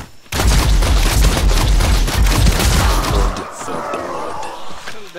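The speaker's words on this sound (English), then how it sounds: "It's explosive bolts." Explosive bolts fire in the video game Nosgoth as a rapid burst of booming impacts lasting about three seconds, then a fading crackling tail.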